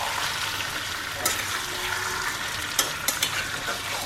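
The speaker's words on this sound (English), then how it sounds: "You should fry it in a medium flame." Chicken chukka frying in oil over a medium flame, a steady close sizzle with occasional scraping stir strokes against the pan, no voices.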